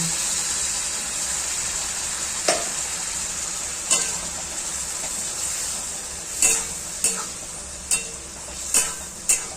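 Ground spice paste for ghugni hits a hot pan and fries, giving a steady hiss with several sharp scraping and clinking spatula strikes spaced through the later part, no voices present.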